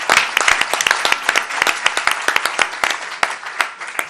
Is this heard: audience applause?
yes